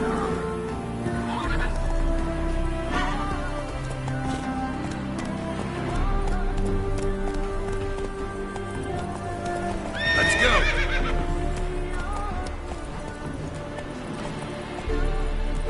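Roach, a horse in The Witcher 3, gallops with steady clip-clop hoofbeats throughout, and loud whinnies and neighs break through several times, most strongly near the middle, over a continuous game soundtrack.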